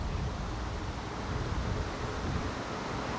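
Steady wind blows across a fishing lake as a broad, even outdoor rush with a low rumble of wind buffeting the microphone, with no voices.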